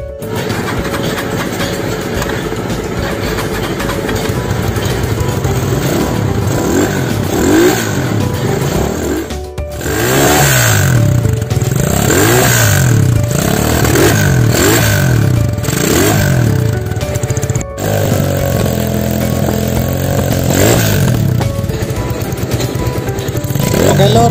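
Honda Tiger Revo motorcycle engine after a carburetor service and tank flush, running loud and close with a lumpy single-cylinder idle and repeated throttle blips rising and falling, continuous for the whole stretch.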